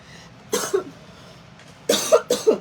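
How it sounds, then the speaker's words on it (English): Several sharp coughs close by: one burst early, then a quick pair of harsher coughs near the end. "I don't want to start coughing."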